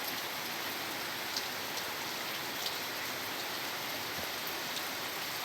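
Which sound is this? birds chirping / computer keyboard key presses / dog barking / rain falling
rain falling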